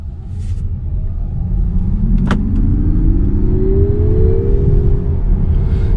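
A 2023 Nissan Ariya electric car accelerating from nearby, a low steady rumble with a smooth rising whine climbing gradually in pitch, with no engine roar.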